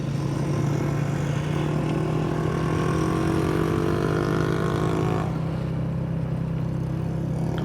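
A motorbike engine runs steadily with a low, constant drone and a rising whine through the middle, easing off near the end over a continuous rumble.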